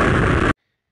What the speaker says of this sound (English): For the flying away part at the end, we will use this explosion sound.